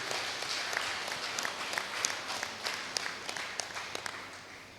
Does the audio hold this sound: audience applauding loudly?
yes